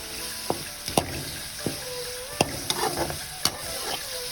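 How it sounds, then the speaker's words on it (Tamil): Boiled vegetables and shallots sautéing in a pan for varutha aracha sambar, a continuous close sizzle broken by repeated sharp spoon taps and scrapes against the pan. "நல்லா இதை வதக்குங்க"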